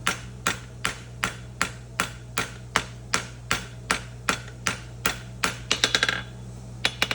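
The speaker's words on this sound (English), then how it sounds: "now I'm pulling with my hammer to try and pick up that corner" A farrier's hammer pulls and shapes the heel of a horseshoe, striking metal in a steady rhythm of about eighteen sharp, close blows, then a quick flurry of lighter taps, over a constant low hum.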